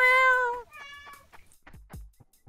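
Cat meowing in the video game Shenmue, a loud, clear drawn-out meow followed by a shorter second meow, then quiet with faint thumps and low background sounds.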